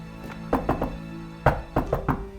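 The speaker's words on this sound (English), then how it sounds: "kind of a rhythmic knock that's supposed to be kind of a secret knock" A rhythmic knock on a door, two short sets of firm wooden thuds in the same quick pattern, close and clear with no talk.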